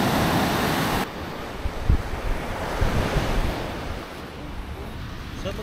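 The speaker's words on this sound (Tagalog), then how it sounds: "Ang lakas ng alon, no?" Strong ocean surf breaking on a shore with heavy wind noise across the microphone, a steady roar with several surges of crashing waves.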